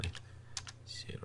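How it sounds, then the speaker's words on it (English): Keys clatter on a computer keyboard during software editing work, a short burst of close, light clicks in an irregular run with faint background hum. "I'm just typing in actually"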